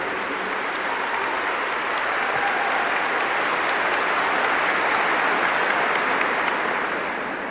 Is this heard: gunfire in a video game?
no